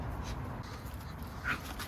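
A four-month-old dog whimpers softly over steady background noise, with a brief high whine standing out near the end.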